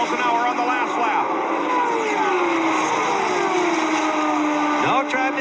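CART IndyCar race cars from 1992 scream down a superspeedway backstretch at over 220 mph, a loud continuous engine roar with pitch sweeps as cars pass, under excited race commentary.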